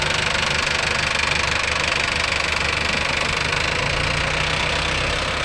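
A Mahindra Arjun Novo 605 DI tractor engine runs steadily with a rough, knocking diesel chug, loud and continuous throughout, no voices over it.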